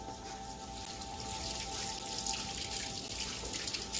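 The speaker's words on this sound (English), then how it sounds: "Wash this whisk up real quick." A kitchen whisk rinsed under a running tap, a steady hiss of water splashing into the sink for several seconds, close and moderately loud with no talking.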